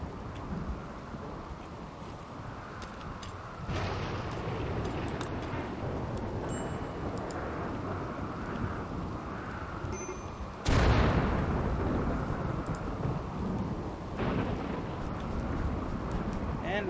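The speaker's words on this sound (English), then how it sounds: "And we've got a rainy thunderstorm" Steady rain hiss from a thunderstorm in the video game RimWorld, with two louder bursts of rumbling thunder cutting in partway through and near the end, and talk running underneath.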